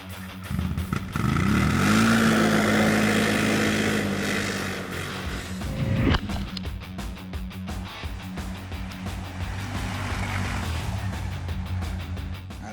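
A Loncin X-Wolf 1000 ATV engine drones and revs outdoors on a road covered with wet ice, a loud sustained motor tone that rises, dips with a sharp clunk midway, then settles into a steadier hum.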